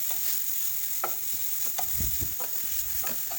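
Grated coconut frying in a pan for a Mangalorean chicken sukka, a steady hiss of sizzling under scraping stirs and soft spoon knocks, close by with no voices.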